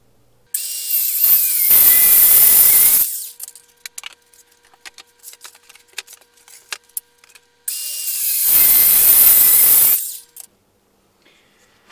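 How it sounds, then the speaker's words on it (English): A Ryobi cordless circular saw guided by a Kreg rip cut jig cuts through MDF in two loud, close bursts of high whining rasp. Short clicks and handling noises fill the gap between them. "What I'm going to use is this Kreg rip cut jig with a Ryobi cordless saw"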